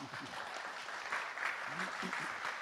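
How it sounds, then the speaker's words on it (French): Audience applause welcoming a speaker at a Toulouse health start-up and innovation event, fairly faint and distant clapping with voices talking over it. "Sous vos applaudissements"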